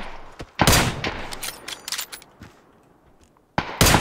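Gunfire in PUBG, several loud bursts of shots in quick succession, then a near-silent gap before another sharp burst at the end.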